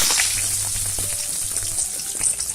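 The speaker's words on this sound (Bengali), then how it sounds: "তেল গরম হতে দিয়েছি, এখন এর মধ্যে পেঁয়াজ কুচি দিয়ে দিচ্ছি।" Chopped onions hit hot oil in a pan and sizzle loudly, a dense hiss of frying close up with crackling pops through the short burst.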